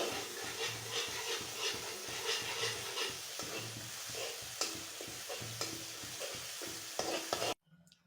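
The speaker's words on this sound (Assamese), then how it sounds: "এতিয়া তেলত ভাজি লওঁ" Jika (ridge gourd) chutney paste, ground with green chilli, garlic and salt, sizzles and spits steadily in hot oil, with stirring scrapes and pulses throughout until it stops abruptly near the end.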